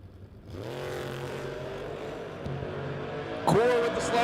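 Drag race between a 1941 Willys and the Core Custom 1968 Dart: a loud, sustained engine roar rises steadily in pitch as the cars accelerate, with a sharper burst near the end.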